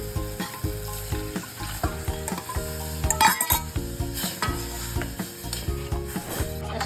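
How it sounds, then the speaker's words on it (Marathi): A buttermilk and gram flour kadhi is stirred in a pot on the stove, with a spoon scraping and knocking against the metal in a steady, repeated rhythm. A soft bubbling hiss runs underneath, close and fairly loud. "गाठी वगैरे नको पडायला म्हणून आपण कढी एकसारखी हलवत राहायची आहे।"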